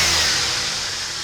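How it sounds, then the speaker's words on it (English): A stock L67 supercharged V6 in a Holden Calais revs hard with no airbox and a pod filter fitted, a loud, sustained, high-pitched engine scream held steady throughout. "Stock L67. She's a screamer."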